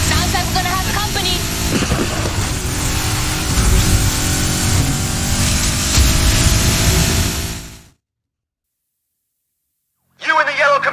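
A yellow Camaro's engine roars in the racing game Need for Speed Heat, loud and continuous for several seconds over a police radio voice and other game sounds, then cuts out briefly before the sound returns.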